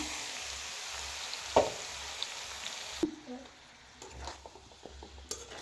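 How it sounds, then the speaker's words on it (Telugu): Chicken frying in a pan together with Malabar spinach, taro and eggplant, a soft low sizzle with a few stirring clanks and scrapes, quieter and sparser in the second half. "దీన్ని కూడా కొద్దిసేపు ఫ్రై చేసుకుందాం నీరు వచ్చినంత వరకు"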